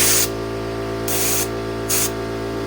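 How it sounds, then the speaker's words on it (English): Air compressor nozzle blowing under an ATV handlebar grip: three loud, steady hissing bursts of air, each lasting about a quarter to half a second, over a constant low mechanical hum, with nobody speaking. "you can get an air compressor, actually get it underneath here, and it breaks that seal"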